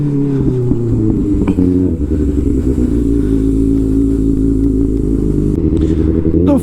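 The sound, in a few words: motorcycle engine after cold start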